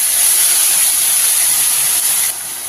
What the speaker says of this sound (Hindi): अब यहीं पे जो पीस के रखे थे प्याज, उसी को हम यहीं पर डाल देते हैं।